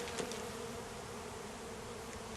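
Honeybees buzzing steadily inside a top bar hive, a dense, continuous drone heard up close with no talk.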